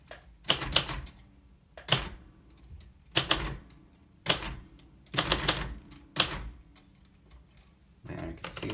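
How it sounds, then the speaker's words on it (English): A date is typed on a Royal 890 typewriter as loud, crisp bursts of key strikes, clustered in short groups with pauses between them, up close and with no talk over them. "So let's just type in the date quick."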